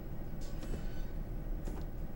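A turbine train in the game Train Simulator 2016 begins to move off, giving a quiet, steady low rumble with faint higher whines rising briefly above it.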